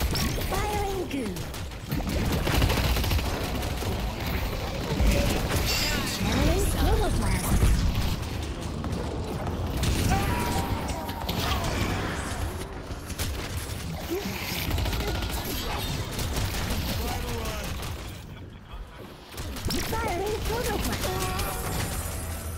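Viscous, a hero in the shooter game Deadlock, fires goo amid dense game noise of bursts, pops and crashes that runs throughout at steady loudness, with a player talking over parts of it.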